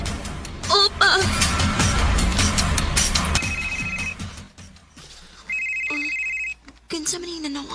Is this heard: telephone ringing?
yes